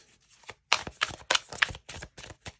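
Tarot cards shuffled by hand close to the listener, a series of crisp rhythmic slaps and riffles, about a dozen distinct card hits in quick succession.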